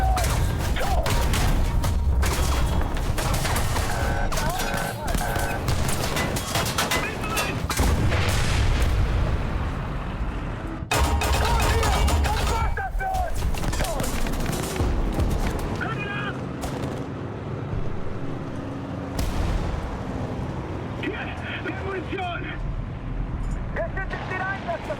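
Tank cannon shots and explosions in War Thunder boom repeatedly at mid distance over a constant rumble of battle noise, with deep heavy blasts spread throughout.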